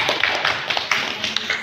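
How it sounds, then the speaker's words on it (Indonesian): A classroom of students claps hands during a lesson, a quick run of light, scattered claps with several distinct sharp hits, fairly close and moderately loud. "Baik, tepuk tangan dulu."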